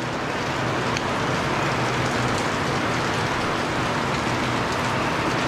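Steady rain falls outdoors during a rib barbecue on a Traeger grill, a constant dense hiss of drops on surfaces that continues evenly without pause, moderately loud and close, with no voices over it.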